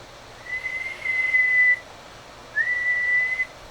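A person whistles two sustained steady tones into a microphone during a bench test of a Varmint XL-250 CB amplifier, heard over a faint background hum.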